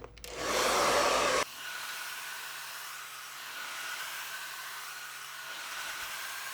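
A hair dryer blows a rough dry on a gray bob: a loud, close burst of air at first, then a steadier, softer whir that keeps running to the end with no talk.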